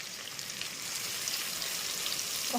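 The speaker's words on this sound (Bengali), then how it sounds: "একটা মাঝারি সাইজের পেঁয়াজ কিছু করে নিয়েছি এবার এটাকে সামান্য একটুখানি ভেজে নেবো" Onion pieces frying lightly in a pan for a pabda fish and cauliflower curry, a soft steady sizzle and crackle running throughout without talk.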